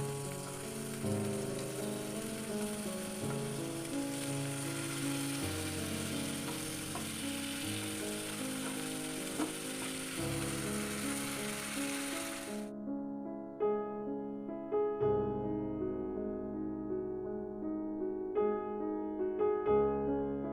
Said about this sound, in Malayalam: രണ്ടു വശവും ഇതുപോലെ തിരിച്ചും മറിച്ചുമിട്ട് ഫ്രൈ ആക്കി എടുക്കണം